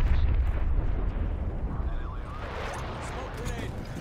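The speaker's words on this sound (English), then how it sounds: "napalm's going to B right now" Napalm strike explosions in Black Ops Cold War, Domination mode on the Nuketown map. A dense, sustained roar of blasts and crackling fills the whole span, loud and continuous, slowly easing toward the end.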